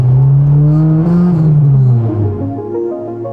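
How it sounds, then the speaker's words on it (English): A street racing car revs hard on the Kanjo Loop while warming up its tires, the engine note climbing and then sagging as the loud, close motor drones steadily and then eases off. "Whoa, warming up the tires."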